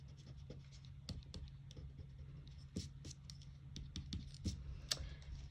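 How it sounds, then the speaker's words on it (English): A pencil eraser scrubs quickly over paper during a perspective drawing of doors and windows, producing faint, close, irregular scratchy strokes over a low background hum. "And then I'm going to go ahead and erase my excess."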